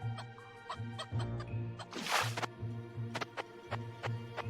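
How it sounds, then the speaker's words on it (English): Chicken clucking in the video game Vagante: a steady run of short, repeated clucks at moderate volume, interrupted near the middle by a brief hissing burst, with no talk. "Come, chicken!"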